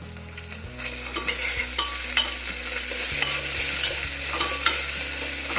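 Onions and ginger paste frying in a pan, a loud close sizzle with repeated stirring scrapes of a spatula across the pan, no voices.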